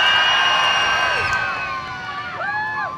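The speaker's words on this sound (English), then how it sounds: "If you thought the Lamborghini sounded best, please cheer now for me." A crowd at the Beaulieu Supercar Weekend soundoff cheers for the Lamborghini, a loud sustained roar of shouts and whoops with rising and falling high-pitched yells, easing slightly toward the end.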